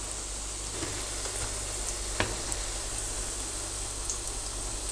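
Parsley omelette (ijjah) fritters frying in a hot pan, with a steady dense sizzle and crackle throughout, close and even, broken by a few faint pops and clinks.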